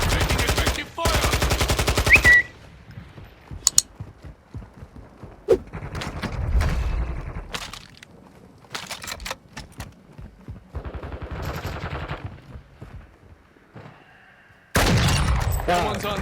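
Gunfire in the Warzone 2.0 video game comes as loud bursts of automatic fire at the start and end, with sparser single shots, mechanical clicks and clatter between them.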